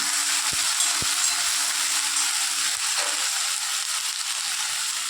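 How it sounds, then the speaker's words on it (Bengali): Vegetable khichuri with salt and coriander stirred in a pan: a steady, even frying hiss runs throughout, with a few faint utensil taps near the start and no talking. "নুন দিয়ে একটু নেড়ে নেব"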